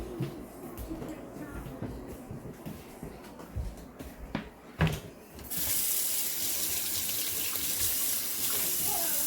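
Lukewarm tap water runs steadily into a sink while a lace frontal wig is rinsed, a continuous hiss that starts partway through after quieter handling sounds and faint talk.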